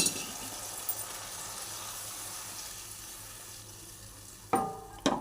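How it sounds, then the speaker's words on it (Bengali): Water hits a hot pan of frying pumpkin, potato and prawns with a loud hissing burst that fades to a gentle simmering sizzle, followed by a couple of sharp utensil clinks at the end. "জল ঢেলে দিলাম"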